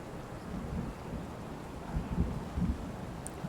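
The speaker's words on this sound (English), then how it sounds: "Bit of thunder if you can hear that in the background there." Thunder rolls in the background of Train Sim World 3 during a Southeastern Class 465 run along the Thames, a low continuous rumble with rain and a few swelling peaks, no talk.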